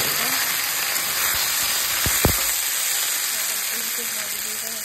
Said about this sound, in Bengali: পেঁয়াজটা ভাজা হয়ে গেছে, এবার আলু দিয়ে দিলাম।